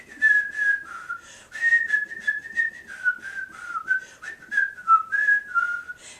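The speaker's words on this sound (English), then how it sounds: "So I'm going to whistle anything." A person whistles an improvised, wandering tune alone, close and clear, in a series of short phrases with brief breath gaps.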